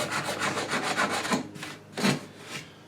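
Dried glue being scraped off a handmade wooden box, a quick series of rhythmic rasping strokes close up, followed by a few slower, separated scrapes.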